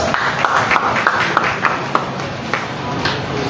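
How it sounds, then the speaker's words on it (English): Members at a professional association's annual general meeting applaud in a hall, a steady wash of clapping with scattered sharper claps standing out, loud and continuous throughout. "We can give ourselves a round of applause for that."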